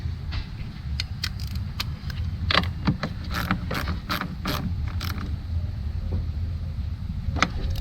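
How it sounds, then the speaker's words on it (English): Ratchet on a 13mm socket tightening a nut during a 2014 Acadia 3.6L timing chain job, a run of quick sharp clicks and metallic taps close up over a steady low background hum. "we'll have to get a 13mm socket to get this on"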